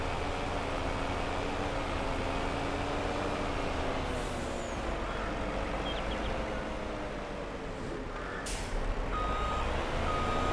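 Reversing beeps from a truck with a water tanker in Farming Simulator 22, a steady tonal beep repeating over loud continuous engine rumble, with a brief air-brake hiss near the end.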